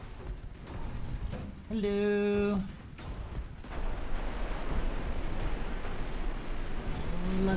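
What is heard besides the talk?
ship torpedoes launched in Ultimate Admiral Dreadnoughts video game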